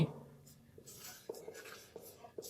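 A math expression is written by hand, pen strokes scratching in short, quiet bursts with brief pauses between them in a still room.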